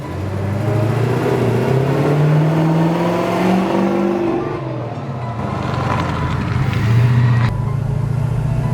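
Pontiac Firebird V8 of 300 hp revving while driving, a loud close engine note rising and falling in pitch with throttle surges, with no talking.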